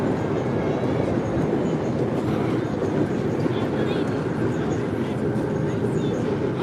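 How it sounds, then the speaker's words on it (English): A train rumbles across the Sydney Harbour Bridge overhead, a steady, continuous low roar with faint rail clatter heard from below at a crowded evening festival, with voices and city noise underneath. "You'll hear a train going across,"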